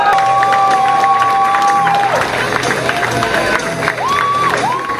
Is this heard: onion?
no